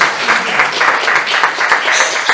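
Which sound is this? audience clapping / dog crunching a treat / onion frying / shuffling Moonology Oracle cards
audience clapping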